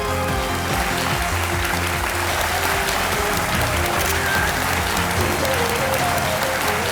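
A studio audience on a TV quiz show set applauds steadily and densely for the full stretch, with dense, even clapping and faint background music underneath.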